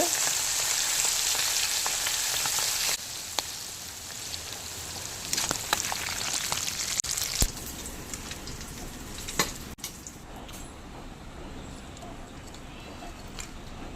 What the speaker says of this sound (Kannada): ಬೂತಾಯ್ದ ತೆತ್ತಿ ಫ್ರೈ ಎಲ್ಲ ಎಡ್ಡೆ ಹಾಕೊಂಡು ರವ ಮಿಕ್ಸ್ ಮಾಡ್ತದ ಫ್ರೈ ಮಲ್ತಂಡ ಆಂಡ್